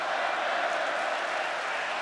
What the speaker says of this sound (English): Fans trying to cheer the Undertaker, pull him back in this thing